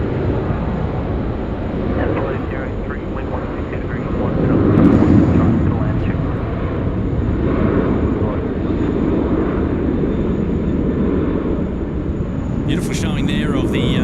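American Airlines jet at Sydney Airport, a broad sustained engine roar that swells around the middle and holds steady, with a voice talking faintly over it.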